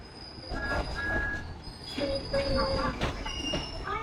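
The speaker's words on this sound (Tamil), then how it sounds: "ட்ரெயின் வந்துருச்சுங்க." A train pulls into a station in Japan, steel wheels squealing in long high whines over a rumbling rolling body, nearby and sustained throughout with faint voices around.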